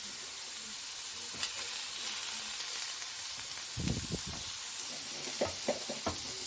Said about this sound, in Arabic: ولا هنقلي نغرقه زيت ولا حاجه، هنشوحه كله بنفس النظام